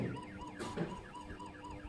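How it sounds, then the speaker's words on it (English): An SOS alarm siren from a SPIKECAM SC01 PLUS body camera wails in a steady rising-and-falling electronic cycle, moderately loud and alone. "triggering an SOS alarm."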